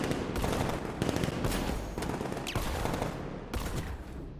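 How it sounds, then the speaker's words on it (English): Rapid, continuous machine-gun fire and scattered shots fill the video game Batman Arkham Knight, loud and close with steady pulsing bursts throughout and no talk. "What are you shooting them with?"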